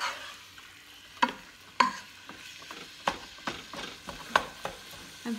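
Ground meat frying over high heat for spaghetti sauce, with a spatula scraping the pan in repeated, uneven strokes over a low sizzle, close and clear with no voices.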